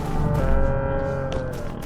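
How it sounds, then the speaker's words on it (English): A cow in a video game lets out a long, low moo, loud and near, sustained for nearly two seconds with a faint click partway through. "That sounds like a cow."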